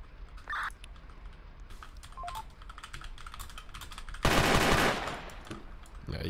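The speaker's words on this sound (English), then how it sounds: "Oh my gosh, there's a massive shootout. Right in front of me." Rapid gunfire bursts in a Roblox shootout, with sharp clicky shots scattered throughout and a dense, loud burst of firing near the end, with no talk.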